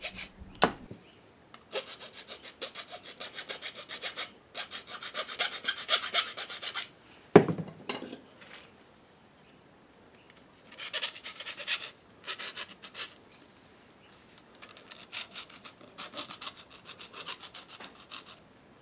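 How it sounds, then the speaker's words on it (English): Metal file rasping burrs off the hacksaw-cut end of an arrow shaft, repeated short scraping strokes in bursts with pauses and one sharp knock, close up and fairly quiet. "Now we're just going to use the file to remove all the burrs off where we cut."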